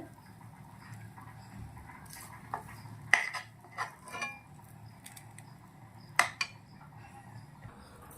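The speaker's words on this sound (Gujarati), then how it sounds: "આપણે આ કઢાઈમાંથી ઠંડુ પડવા માટે થાળીના અંદર કાઢી લેશું" A sweet mixture is scraped out of a kadai (wok) onto a plate with a metal spoon: scattered clinks and scrapes, two sharper knocks, close but quiet, with gaps between strokes.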